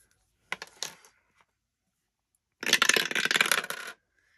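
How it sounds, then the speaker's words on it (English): A six-sided die is rolled on a hard surface. A brief rattle comes first, then a longer clattering tumble, close and crisp, with silence between the two. "let's roll the dice on this one."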